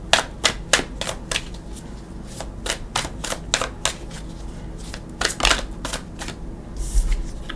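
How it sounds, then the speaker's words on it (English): Tarot cards being shuffled by hand, a series of quick crisp riffling bursts and soft slaps in irregular rhythm, close and clear with no talk over them. "we're going to shuffle."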